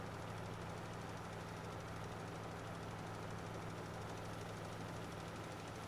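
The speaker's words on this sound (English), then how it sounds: "This tractor is definitely struggling with it." A 200 horsepower tractor engine in Farming Simulator 22 labours under load, giving a steady low drone with a constant rumbling hum and no break or change throughout.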